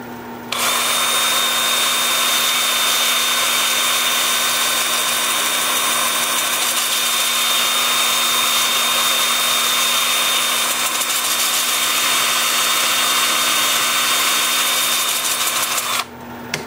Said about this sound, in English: I'm going to have the lathe spinning forward at about 380